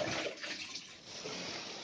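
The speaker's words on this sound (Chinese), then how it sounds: "倒水，弄湿啦" Water poured over bed-bug-infested clothes to soak them, a steady, close splashing wash that swells and eases slightly over a couple of seconds.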